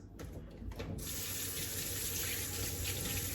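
A kitchen faucet runs steadily while asparagus is washed, a continuous splashing water stream that starts after a short moment and stays loud and close, with no talking.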